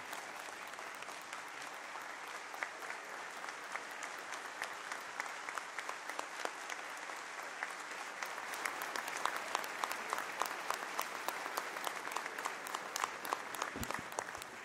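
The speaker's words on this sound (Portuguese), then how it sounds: "Essas palmas são recebidas pelo Tribunal de Contas do Estado de São Paulo" Long, steady applause from an audience after a speech by the president of the São Paulo State Court of Accounts, a broad wash of many hands clapping that swells slightly midway.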